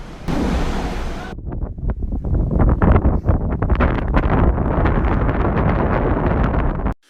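A strong gust of wind roars across a street construction site, buffeting the microphone with a loud, steady rush for about seven seconds before cutting off abruptly.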